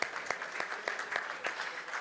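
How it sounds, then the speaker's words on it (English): A conference audience at a diplomacy and sustainability dialogue applauds steadily as a guest walks to the stage, with dense, even clapping and faint crackle throughout. "Please give him a round of applause as he walks to the stage."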